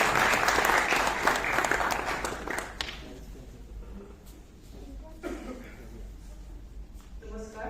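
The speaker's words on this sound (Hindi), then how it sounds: "एक बार जोरदार तालियां प्रोफेसर बुशरा आतिक।" A festival audience at IIT Kanpur gives a loud burst of applause for a speaker taking the stage, fading after about three seconds into scattered claps, light chuckles and murmuring voices.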